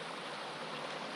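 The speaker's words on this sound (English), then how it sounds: "River's flowing good." Continuous full rush of a river flowing through a small canyon on the Lerderderg in Victoria, Australia, steady and close with no voices.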